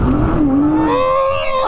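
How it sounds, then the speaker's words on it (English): A Nissan GT-R engine hums close by, its pitch sliding and then rising into a steady tone over a brief couple of seconds, loud and alone without talk. "Oh, let me hear the sound. Welcome to the GTR."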